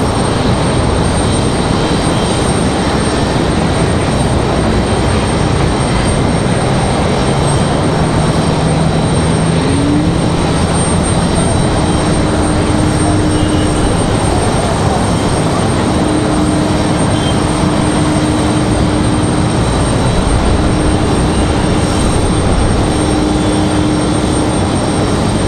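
A WestJet airliner arriving from Calgary at Raleigh-Durham International Airport, its engine roar loud and steady throughout with a faint rising whine, no voices present.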